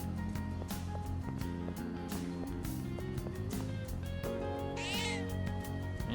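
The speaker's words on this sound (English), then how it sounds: "Meow. Cat is looking around." A cat meows several times in a video game, its cries repeating over steady background music and game sounds, with a rising final call.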